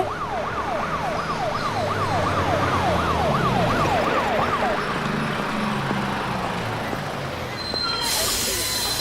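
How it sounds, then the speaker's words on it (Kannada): A police jeep siren wails up and down in quick, steady cycles over road noise, then cuts off halfway through, leaving the hum of traffic. "ಪೊಲೀಸ್ ಜೀಪ್ ಯಾಕೆ ಬರ್ತಾ ಇದೆ"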